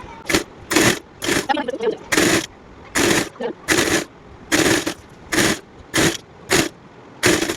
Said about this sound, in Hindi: यहाँ से हम इसको ऐसे पकड़ेंगे और यहाँ नीचे सिलाई लगा देंगे इस तरीके से।